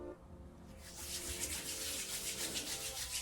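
A few drops of hair oil rubbed between the palms, a close, soft, steady swishing friction that starts after a brief quiet moment and continues evenly, with no talking.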